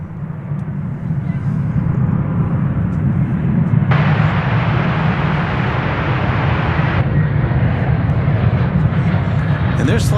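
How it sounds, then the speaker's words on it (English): An American Airlines Boeing 787-9 jet airliner passes over a bridge at DFW Airport, a steady engine roar that swells in the middle and stays up throughout, with someone talking over it. "Over the bridge goes American Flight 36 to Madrid. That's a 7879."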